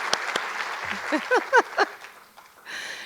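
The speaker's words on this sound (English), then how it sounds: "One more applause for Jessica." A city address audience claps in a moderate, even wash, with a few rising whoops or cheers cutting through the middle. The clapping thins out and then swells briefly again at the end.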